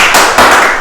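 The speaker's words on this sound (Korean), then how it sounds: "오늘도 열렬히 박수 쳐주시는 분 축복합니다" Applause fills a lecture hall, a loud, dense wash of clapping from an audience that carries through the whole brief moment.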